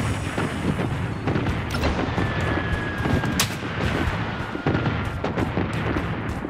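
Gunfire in the shooter game Blood Strike, rapid bursts of shots and impacts layered over a constant loud battle din, with sharp cracks repeating throughout.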